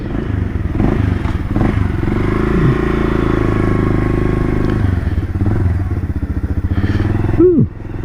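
A cold 1978 Kawasaki KL250 motorcycle engine, kick-started on a cool morning without the choke, runs steadily with a loud, close idle and a brief rev near the end.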